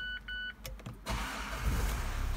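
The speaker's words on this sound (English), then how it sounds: "As we get in and just fire the car up," A Mazda CX-5 2.2 diesel is push-button started: two short chimes sound inside the car, then a few clicks, and the engine cranks and catches into a loud, steady diesel idle with no voices.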